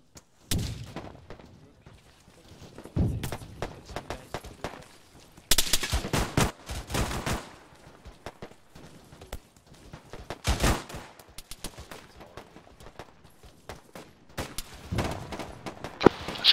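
Gunfire in a military video game: scattered rifle shots and rapid automatic bursts, some close and sharp, others distant, break out in clusters between quieter gaps while players talk over voice chat.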